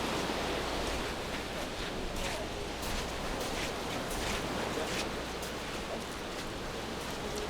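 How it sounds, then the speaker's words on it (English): Steady ocean surf washes across a beach in a continuous broad roar, with faint scattered crunches that may be footsteps of people walking up, for a commercial soundtrack. "I actually use the sound of the waves and the actual footsteps of them walking up here"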